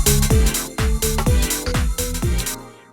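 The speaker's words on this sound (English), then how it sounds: "Now you can hear a high string in the background to create some tension." A dense garage house groove with punchy kicks, bass and chords, while a sustained high string pad from a Korg Triton holds in the background to build tension; loud and continuous with no talking.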